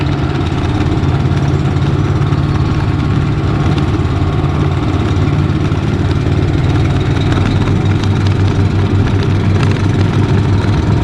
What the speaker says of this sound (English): I'm driving the golf cart.